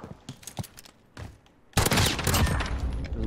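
Rapid gunfire from the Call of Duty Gunfight mode bursts in loud and dense, following a few sparse, quieter shots and scattered sounds.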